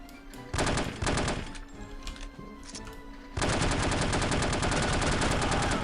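Heavy automatic gunfire in the shooter game No One Lives Forever, two loud bursts early on, a quieter stretch of scattered shots, then a long sustained loud volley to the end, no voices.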